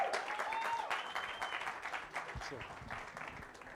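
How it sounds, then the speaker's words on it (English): Audience applause fills a business technology workshop and expo hall as a speaker is brought on stage, steady dense clapping that slowly fades, with a thin tonal whistle or feedback line drifting above it. "Please, can we put our hands together for Bulelani Balabala?"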